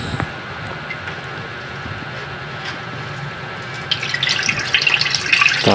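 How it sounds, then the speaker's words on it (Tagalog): Rice being washed in water, a quiet wet swishing that turns into louder splashing and sloshing near the end, with no talk. "hugasan muna natin yung bigas, hugasan natin ng maigi"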